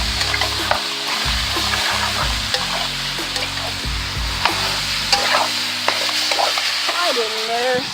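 Curry powder fries in hot oil for Jamaican curry chicken, a loud continuous sizzle with frequent stirring scrapes and occasional clicks, plus a low hum in the background.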